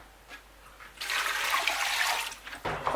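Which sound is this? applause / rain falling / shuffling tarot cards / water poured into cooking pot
water poured into cooking pot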